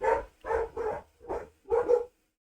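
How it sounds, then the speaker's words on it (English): Several loud, close dog barks in an irregular series of five, each a sharp woof with short gaps, indoors with no talk over them. "now the dogs are barking"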